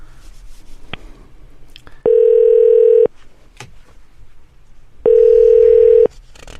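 A telephone call connecting tone sounds in two long, loud steady beeps about a second each, separated by quiet gaps with faint background noise.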